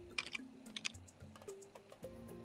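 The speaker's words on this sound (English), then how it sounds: "Let me type it somewhere." Brief bursts of typing on a computer keyboard, quiet close key clicks in a few quick clusters.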